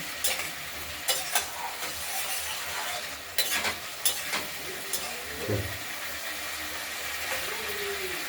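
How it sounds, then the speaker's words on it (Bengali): Spice paste sizzling and frying in oil while being stirred for a rohu fish curry, steady close frying hiss with scattered sharp clatters of a spoon against the pan. "মশলাটা কষে এসেছে, দেখতেই পাচ্ছেন।"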